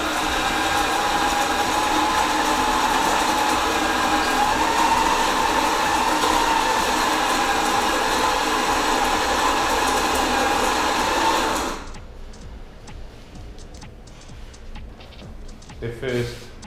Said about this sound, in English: and test the coffee grinder.